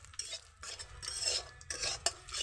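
A spoon stirs white cumin seeds and bay leaves frying in a pan, making quiet, irregular scraping and clinking strokes against the metal, close by and with no talking.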